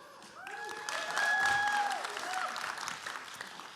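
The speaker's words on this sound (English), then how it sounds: "Let's just do a huge round of applause for the audience here." Audience applause at a summit fireside chat, a moderate, fairly distant wash of clapping that builds and fades, with tonal whistles or cheers rising briefly over it.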